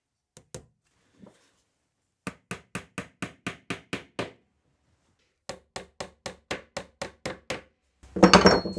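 Wooden box sides are being tacked into place with glue. Two quick runs of about eight sharp, evenly spaced taps are separated by a pause, and a burst of rattling clatter comes at the end.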